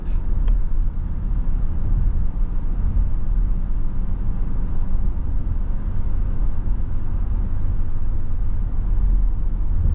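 A 2024 Hyundai Tucson N-Line Hybrid driving and shifting gears with the paddles, heard from inside as a steady low road and engine rumble, with no clear shift moments.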